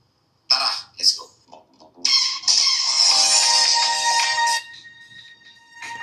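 Ringtone played loudly through a budget smartphone's single loudspeaker, a sustained bright melodic tone lasting a few seconds, preceded by brief sounds at the start.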